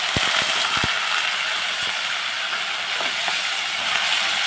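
Dried prawns hit hot oil in a pan, giving a bright continuous sizzle with a few sharp clicks and taps near the start as they are dropped in and moved about.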